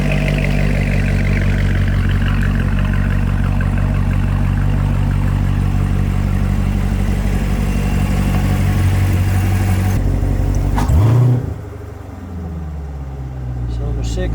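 A car engine idles with cylinder 6 misfiring, giving a steady, uneven rumble close by for about eleven seconds before it cuts off abruptly, followed by faint clanks and quieter noise.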